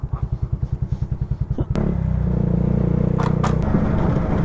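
Yamaha Mio Sporty scooter engine after its rear brakes were sprayed with brake parts cleaner: a close, loud putter of rapid even pulses that shifts into a steadier revving drone, with faint clatter and no talk.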